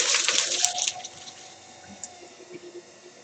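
Warm water splashes and runs at a pottery wheel, a bright burst of pouring for about a second, then fading to faint drips and trickles in a quiet room.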